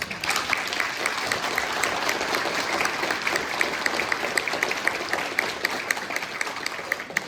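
Sustained applause from an audience at a county State of the County address, honoring county jail staff; steady dense clapping fills the whole stretch at moderate distance with no talk over it.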